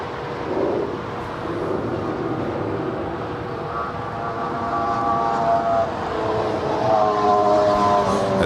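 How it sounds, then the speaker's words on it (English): An Emirates Airbus A380 airliner passes overhead above West Los Angeles, a steady broad jet roar that slowly swells and grows louder over the whole stretch, with tonal engine whine rising toward the end. "the Emirates A380 now passing over West Los Angeles and make her way toward downtown LA"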